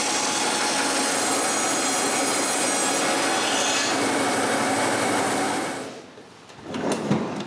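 A saw cuts through birch boards in a woodworking shop, making a loud, steady, grinding roar for about six seconds before it stops abruptly, leaving quieter rattling and shop noise behind.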